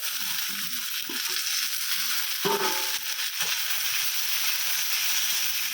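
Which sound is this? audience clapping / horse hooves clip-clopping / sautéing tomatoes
sautéing tomatoes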